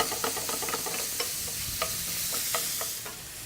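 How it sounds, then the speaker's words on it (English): Eggplant sautéing with a Moroccan spice mix in a hot pan, a steady broadband sizzle punctuated by repeated scraping and stirring clicks as pieces are broken up and turned, close and moderately loud with no talk. "So just gonna break this up and saute to get some great color."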